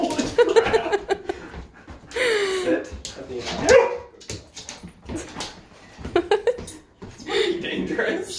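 Several excited dogs bark, yip and whimper shrilly in bursts while being offered chicken, with a person giving commands between the barks up close.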